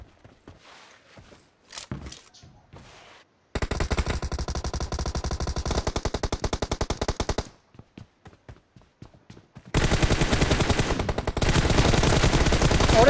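Rapid automatic gunfire from a PUBG Mobile team deathmatch, an M416 rifle in use, loud sustained bursts of rattling shots separated by short pauses, with faint speech-like sounds and quiet shuffling before the first burst.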